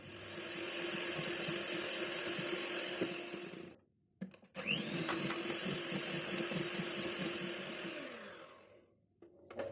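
An electric hand beater whirs steadily through cake batter for a cinnamon dry fruit cake as oil is added little by little, a loud continuous motor drone that stops briefly midway, then resumes before winding down.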